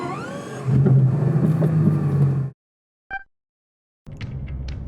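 A 1500-horsepower Bugatti Chiron supercar pulls away with its engine note climbing loudly nearby, then the sound cuts off abruptly. A short electronic chime follows, then a low rumble returns.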